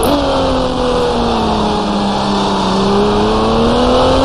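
Loud, close engine drone from a Dodge Viper and a Lamborghini Diablo race car in GT Racing 2002, a steady high-revving whine that rises slightly and holds throughout.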